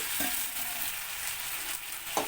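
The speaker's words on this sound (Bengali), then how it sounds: "কড়াতে কষিয়ে নাও মশলার সঙ্গে" Raw jackfruit and shrimp fry with spices in a wok, giving a steady, close hiss of sizzling oil with a couple of soft stirring scrapes and no talking.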